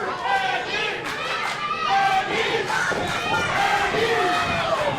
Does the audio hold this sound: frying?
no